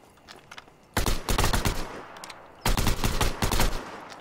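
Gunfire in a free-to-play battle royale video game, heard as two loud bursts of rapid shots, each lasting over a second, separated by a short pause, with no talk over them.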